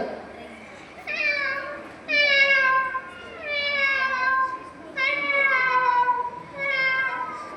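A child at a school talent-fair mimicry performance imitates a house cat, giving five drawn-out, falling meows one after another, clear and close.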